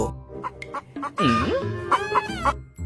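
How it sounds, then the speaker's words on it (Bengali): A hen clucks in short bursts and rising squawks, close and fairly loud, the calls separated by brief gaps. "দেখ মদনা, মুরগি 3টা ডিম পারছে"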